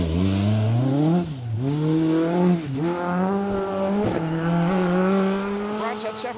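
A rally car on an asphalt stage at Rally Ceredigion accelerates hard, the engine note climbing steadily and dipping at gear changes several times, loud and continuous throughout.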